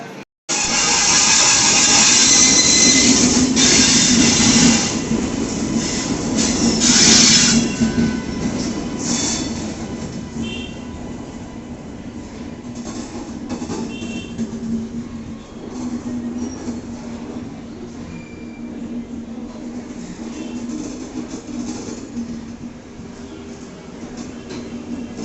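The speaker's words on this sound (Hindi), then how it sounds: "चलिए, ट्रेन जो अराइव कर चुकी है, हम लोग कोच में चलते हैं" Sealdah Rajdhani Express pulling into a station platform, a loud rolling rumble with screeching brakes and wheel squeal early on, then a long, easing rumble as the coaches slow.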